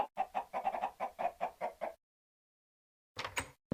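Video game chickens from spawn eggs cluck in a quick run of short, bright clucks for about two seconds. After a silent gap, another brief burst follows.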